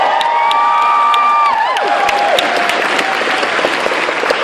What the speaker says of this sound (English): Let's applause for Michael because he's awesome.